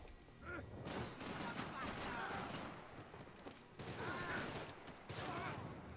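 Rapid bursts of gunfire in the shooter game Max Payne 3 crackle in clustered volleys across the whole stretch, with a voice speaking over the shots.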